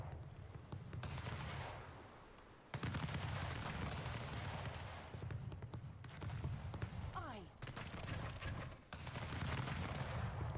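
Ships' cannons fire in a naval battle in the video game Anno 1800, with repeated loud booming shots over continuous battle noise and speech.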